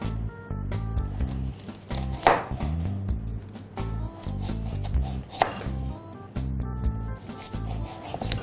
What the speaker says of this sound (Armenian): Մանր կտրատում ենք գազար